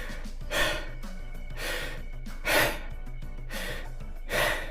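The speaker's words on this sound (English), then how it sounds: "I need to breathe more" Deep breathing by a person, a repeated cycle of four or five audible inhales and exhales, close and fairly loud, with no talking.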